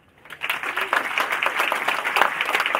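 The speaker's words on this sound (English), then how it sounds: "Can I have a round of applause for the startup?" An audience at a startup demo day pitching session breaks into applause after a brief quiet moment, swelling quickly into full, lively clapping that holds steady and close for the rest of the moment.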